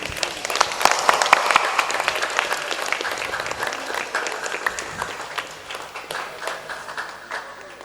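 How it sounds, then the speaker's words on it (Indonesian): Students and audience at an Islamic boarding school creativity contest clap together, a dense burst of applause that is loudest at the start and gradually thins and fades over several seconds, with some scattered voices mixed in. "kalian tepuk tangan untuk diri kalian sendiri."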